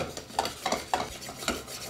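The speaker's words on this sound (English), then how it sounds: "I'm mixing my carrots around here" Carrots stirred in melted butter in a hot pan, a spoon scraping the pan in about five distinct strokes over a soft background sizzle, close and with no talk.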